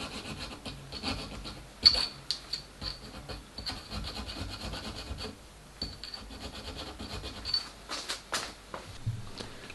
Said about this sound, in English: Adjust the slot with a needle file